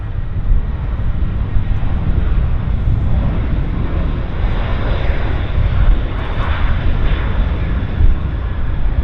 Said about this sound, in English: Heavy aircraft